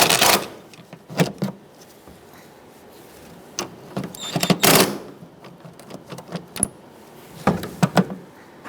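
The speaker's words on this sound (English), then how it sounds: "I'm going to use a 17mm socket to loosen up this nut" A 17mm socket on a ratchet works at a strut nut on a 2010-2013 Kia Soul front suspension, giving scattered bursts of sharp metallic clicks and clanks close by, separated by quieter pauses.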